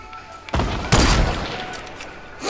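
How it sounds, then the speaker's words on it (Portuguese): A burst of video game gunfire blasts out, followed by a sustained roar of loud shooting that gradually tapers off, heavy and close. "O tiro passou no meio das pernas dele."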